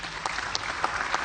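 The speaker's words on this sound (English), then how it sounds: "I ask that you give them another round of applause" Audience applause at an African Union event presenting chairperson candidates, a dense, steady patter of clapping from a large hall with a few sharper claps standing out, running throughout without talk.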